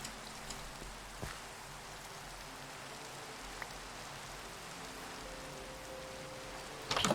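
Soft, steady rain hisses in a video game world, a faint continuous wash with a few scattered louder drops and a slight swell at the very end, with no voices.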